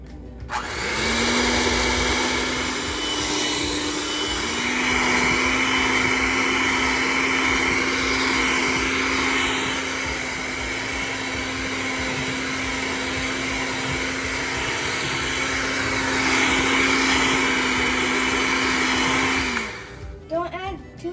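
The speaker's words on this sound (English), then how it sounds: "now it's time to whisk it." An electric whisk whirring steadily through red velvet cake batter, a loud close motor drone with a constant pitch for nearly twenty seconds before it cuts off.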